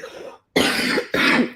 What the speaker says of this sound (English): It's my allergies. I'm still coughing.